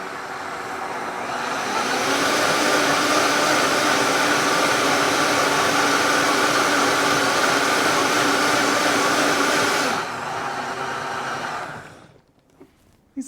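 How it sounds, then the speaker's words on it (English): A Vitamix blender purees broccoli soup with a loud, even roar that holds for about eight seconds before cutting off and fading into quiet. "These Vitamix blenders work so fast"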